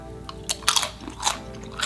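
Close, crisp crunches of teeth biting into a nacho tortilla chip topped with ground beef, a few sharp bursts with chewing in between and no talk.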